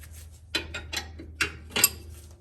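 Brake caliper bolts on a 1941 Chevy disc brake upgrade are tightened, giving a few short, close metallic ratcheting clicks and rubs in quick bursts with quiet gaps between.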